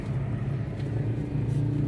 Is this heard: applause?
no